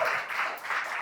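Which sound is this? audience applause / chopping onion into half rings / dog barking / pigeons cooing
audience applause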